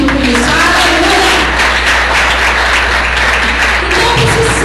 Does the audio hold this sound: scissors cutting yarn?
no